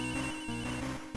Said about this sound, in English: I feel like I got a new cell phone ringtone.